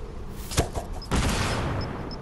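Gunfire in the Fortnite video game: a sharp shot rings out, then a heavier burst of fire follows and leaves a rumbling tail, all fairly close with no talk over it.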